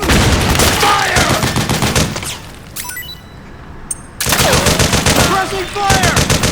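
Rapid bursts of automatic gunfire rattle loudly through a Metal Gear Solid 4 battle, nearly continuous with a short lull midway before the shooting resumes at full intensity.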